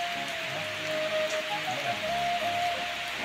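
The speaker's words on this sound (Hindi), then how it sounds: "आज दिन जाक वर्षा लगी रही जान" A day-long downpour keeps falling in an even, close wash of raindrops pattering on surfaces, constant and fairly loud, with nobody speaking.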